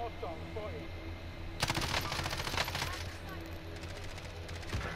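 Sudden burst of gunfire in Call of Duty Warzone cutting in after quiet, a rapid rattle of shots followed by a lone later crack, with a player talking.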